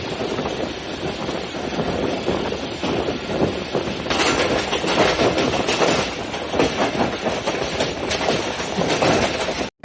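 A train rolls steadily along the rails, with continuous rumbling and rhythmic clacking that grows louder partway through, heard from inside the carriage.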